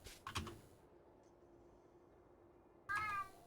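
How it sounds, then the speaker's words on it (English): A house cat meows a couple of times, short and close, alongside the clatter of computer keyboard typing in a quiet room. "Meow? Is that the kitty talking to me?"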